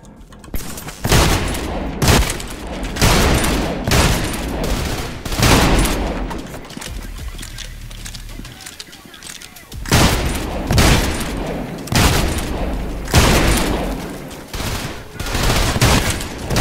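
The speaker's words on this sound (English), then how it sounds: "That's a shotgun." A Spaz 12 shotgun fires repeatedly in the Trepang2 video game, loud booming blasts coming in quick clusters with short pauses between them, dominating the mix.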